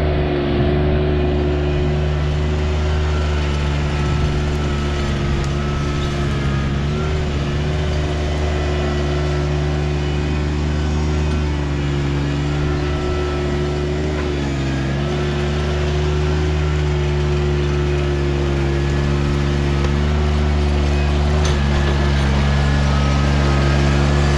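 A John Deere 755 compact tractor engine runs steadily at close range during trail maintenance, a loud, constant diesel drone with a strong low hum and slight shifts in pitch as the load varies.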